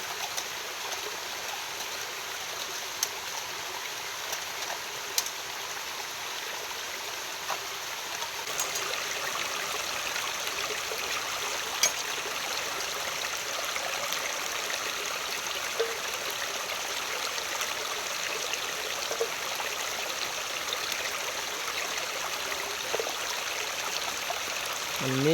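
Rambutans rinsed in a forest stream near a waterfall, steady running water fills the scene with faint splashes and small knocks, no voices.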